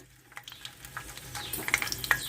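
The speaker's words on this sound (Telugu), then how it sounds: "ఆయిల్ వేడవిందండి ఎల్లిపాయలు గుళ్ళు వేసుకుందాము" Garlic cloves dropped into hot oil for a mutton kheema curry crackle and sizzle with sharp pops, building from quiet to a denser, louder fizz over a couple of seconds.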